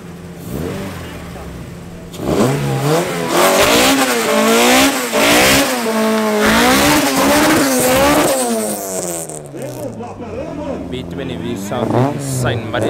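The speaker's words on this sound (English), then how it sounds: "Next up, we got a VW Caddy All Motor going up against the B20 VTEC." At a drag race on an abandoned airstrip, a VW Caddy All Motor and a B20 VTEC car rev loudly nearby, engines climbing and dropping through repeated surging pitch sweeps before easing off.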